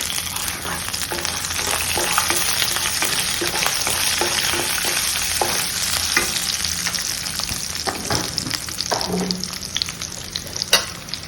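A tempering of chana dal, urad dal, mustard seeds and cumin fries in hot oil, a continuous crackling sizzle close by with scattered pops and light stirring scrapes.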